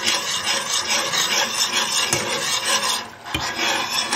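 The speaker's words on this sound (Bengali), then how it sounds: "আমি এবার এটাকে অ্যাড করছি, সমানে আমি নাড়তে থাকবো কারণ লাম্প যাতে না হয়" A spoon stirs a sauce in a pan right after cornstarch goes in, a steady close scraping and rubbing that runs without pause, with faint sizzling underneath.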